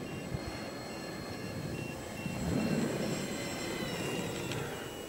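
An RC Horten 9 model jet with electric ducted fans comes in to land outdoors, producing a steady whining roar with thin high tones that swells briefly midway and stays fairly distant.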